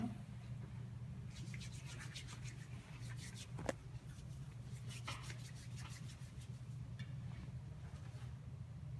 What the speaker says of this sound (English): put my gloves on.